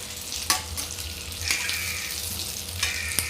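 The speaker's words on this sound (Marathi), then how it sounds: "आता यांना झाकण न ठेवता पाच मिनटं व्यवस्थित फ्राय करून घ्यायचे आहेत" Green chillies fry in an uncovered pan with a constant close sizzle and crackle. Occasional sharp taps and scrapes come through now and then, and nobody talks.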